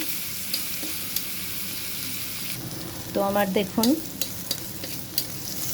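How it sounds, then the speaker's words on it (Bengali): Garlic and onion frying and being stirred in a pan while being cooked as a base for a red amaranth greens dish, a steady soft sizzle broken by scraping stirs, with a brief voice speaking partway through. "শাক না মানে রসুন আর পেঁয়াজের পরিমাণটা যদি একটু বেশি করে দেওয়া যায় তাহলে শাকের টেস্টটা একটু বেশি ভালো লাগে। তো আমি এগুলোকে একটু ভেজে নিচ্ছি।"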